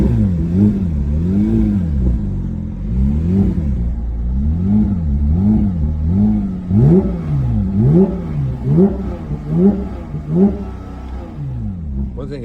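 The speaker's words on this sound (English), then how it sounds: "You can hear the engine here." A 2024 Porsche 911 GT3 engine revs repeatedly, rising and falling in quick bursts, loud and close with a throaty tone.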